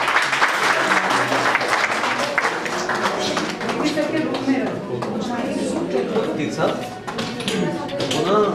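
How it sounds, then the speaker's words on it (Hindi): Audience applause at a meditation workshop held at an academy, a crowd clapping steadily and fairly loudly for several seconds while voices talk over it. "जोरदार तालियों के साथ"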